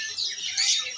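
A short, bright sooty-headed bulbul chirp, fairly close and clear, over a faint quiet background.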